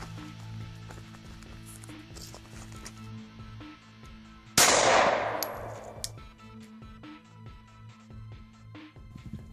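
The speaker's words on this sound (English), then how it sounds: "Okay, we just got done shooting the 9mm." A single sharp, loud 9mm gunshot is fired at a level 3 bulletproof vest, cracking once midway over a low background hum and decaying quickly into a faint ring.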